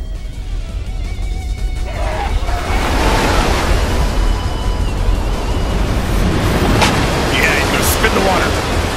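Water rushing loudly from opened floodgates in the Dynasty Warriors 6 video game, a steady broadband roar that swells after the first couple of seconds and holds, with a voice speaking over it.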